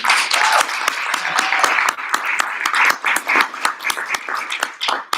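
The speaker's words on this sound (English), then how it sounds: "let's give another round of applause for all of our competitors" Close, lively clapping from an audience at a university Three Minute Thesis competition heat, crisp individual claps dense at first, then thinning and uneven as it trails off.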